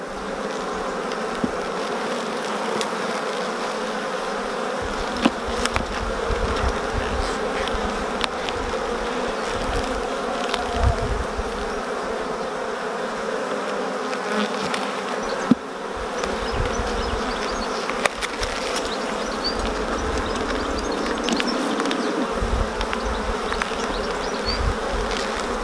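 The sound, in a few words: honey bees buzzing around an opened beehive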